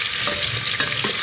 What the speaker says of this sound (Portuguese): Estou com a mão só mexendo aqui